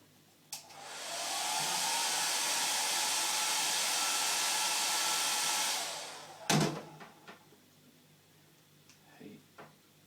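A heat gun warming vinyl wrap on car trim blows with a steady loud roar for about five seconds, then cuts off, followed by a few handling knocks and rustles nearby.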